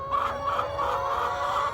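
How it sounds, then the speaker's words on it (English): A rooster crowing among pastured chickens and turkeys on a farm, one sustained tonal call lasting under two seconds, clear and fairly close. "We got a few roosters."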